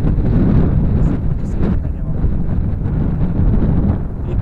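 Steady, heavy wind buffeting the microphone, a continuous low roar that fills the whole stretch with no clear voices.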